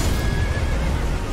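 Torrent, the horse from the video game Elden Ring, lets out a loud, close neigh as it dies, one brief whinny over a noisy game background.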